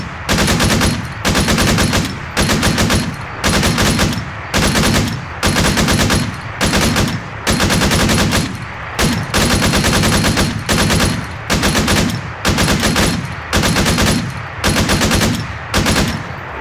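Loud automatic gunfire from the military video game Arma 3 rattles in rapid bursts about a second long, repeated steadily with short gaps, with no talk over it.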